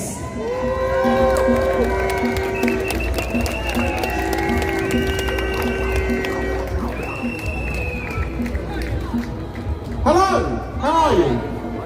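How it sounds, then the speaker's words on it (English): A crowd at a London street demonstration cheers and whoops loudly, with shouting voices and some applause sustained throughout and a fresh burst of cheers near the end. "give him a massive round of applause"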